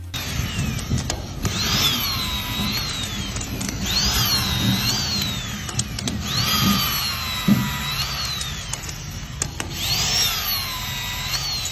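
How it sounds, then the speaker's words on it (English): Electric shear wrench tightening TC bolts during steel structure installation, with repeated whining motor bursts rising and falling in pitch roughly every two to three seconds over a busy, noisy worksite background. "Electric shear wrenches are mainly used in steel structure installation to tighten TC bolts"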